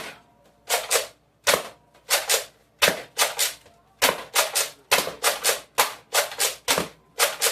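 Foam dart blaster firing amber Dart Zone darts, a rapid series of sharp, close pops in quick clusters of two to four shots with brief pauses between groups.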